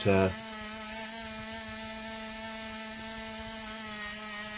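A small power tool whines steadily and close up, holding an even pitch throughout as it cleans the wheels of a Hornby Intercity 125 High Speed Train model; a short louder burst opens the sound.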